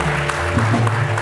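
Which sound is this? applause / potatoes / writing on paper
applause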